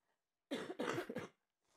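A close, loud cough in three rapid bursts, followed by a faint breath afterward, with silence around it.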